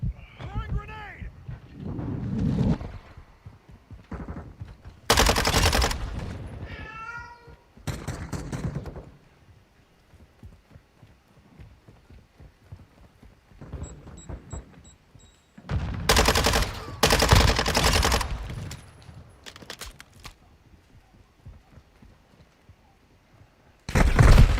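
Call of Duty Modern Warfare II gunfire comes in loud, sharp bursts separated by quieter stretches, with voices talking in between.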